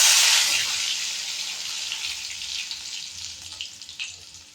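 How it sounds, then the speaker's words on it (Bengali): Garlic fries with cumin in hot oil, a bright sizzle that starts loud and close, then gradually eases into a softer, steady crackle with faint occasional clinks. "রসুনটা একটু ভাজা ভাজা করে নিচ্ছি।"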